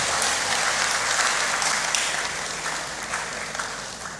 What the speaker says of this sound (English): Keep clapping for him until he sits.